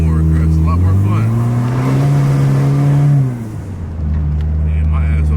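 A Honda Civic engine with a newly installed intake revs hard, the pitch climbing and holding before dropping off, then settling back into a steady loud drone close by.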